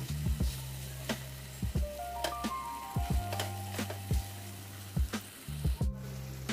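Ridge gourd and potato in poppy seed masala fry in oil as a soft, low sizzle, broken by repeated sharp spatula taps and scrapes against the pan at a steady pace.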